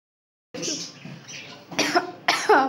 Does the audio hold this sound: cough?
yes